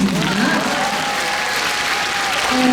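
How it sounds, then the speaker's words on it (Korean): An audience at a concert marking Korean liberation gives a dense, continuous round of applause, loud and steady for the whole moment, with a faint tonal sound running beneath the clapping. "다시 한번 박수 부탁드립니다."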